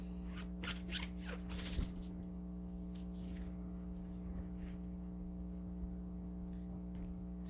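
A deck of tarot cards being shuffled close up, a quick flurry of riffling bursts followed by softer scattered card sounds over a steady low electrical hum.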